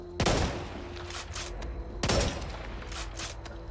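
Two loud gunshots from a slow-firing weapon in Back 4 Blood at a shooting range, about two seconds apart, each followed by a decaying echo.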